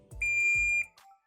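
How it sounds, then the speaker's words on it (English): A multimeter in continuity buzzer mode gives one sustained high electronic tone, about half a second long, while probing an IC supply pin on an RCF 8006-AS active subwoofer amplifier board. A brief click follows it. "Say I'll keep on the buzzer range"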